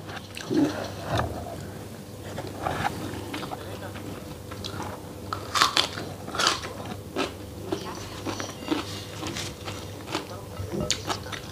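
Crunchy chewing of fried squid with rice and garlic sambal at a home meal, a string of close, crisp bites over a quiet room hum.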